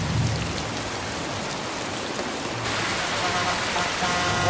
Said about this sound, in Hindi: कितनी बारिश है